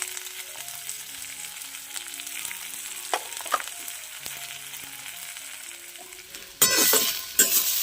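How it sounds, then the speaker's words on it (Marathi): Onion roasting on a wood-fired clay stove, a steady soft sizzle with occasional stirring scrapes and a louder burst of crackling near the end, heard alone with no talk. "चांगला लालसर आहे आपल्याला भाजून घ्यायचं आहे चुलीवर भाजते म्हणून पटापट होईल"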